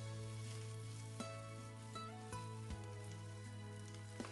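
Minced pork stir-fried with soybean paste, scallion, garlic and diced red pepper in a wok gives a soft, steady sizzle with a few faint spatula scrapes against a quiet background hum.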